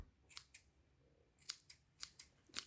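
Scissors trim a fluffy yarn pompom close by in several short, crisp snips, some single and some in quick pairs, with a quiet background and no talking.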